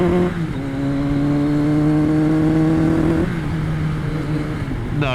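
A 1999 Kawasaki ZRX1100 motorcycle that runs poorly after storage revs in a steady, sustained drone that sags and shifts pitch partway through, close by with no talking.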